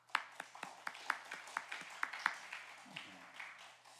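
A church congregation claps during a Wednesday prayer service, a steady run of hand claps that fades out after a few seconds, with a brief voice near the end, heard from a distance in a quiet hall.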